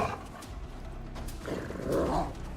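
A wolf in the survival video game Icarus growls low and rough, rising into a louder snarl near the end over a dense background of game noise.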